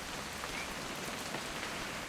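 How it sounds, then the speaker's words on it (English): Rain falls in the video game What Remains of Edith Finch as a soft, steady patter on surfaces, continuous and fairly quiet, with no voices. "It's gonna rain the whole weekend,"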